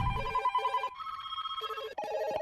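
A telephone rings in repeated electronic trills with short pauses between bursts, loud and close, with no one speaking.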